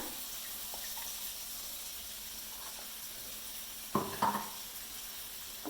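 Water splashes into a hot pan of spiced masala for fried egg kurma, giving a soft steady sizzle and a sharp hiss-and-splash burst near the end, close and fairly quiet.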